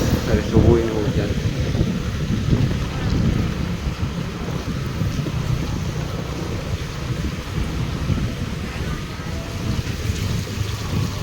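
Heavy rain pouring steadily outdoors in an Indonesian town: a dense, continuous roar of falling water with a low rumbling undertone and no clear breaks.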